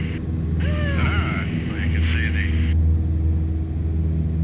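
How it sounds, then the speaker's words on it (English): A small private airplane flies with a steady, loud, low engine drone and rumble heard from inside the cabin throughout, as a voice talks over it. "I strapped in and took off in Pastor's personal airplane to see what it's all about"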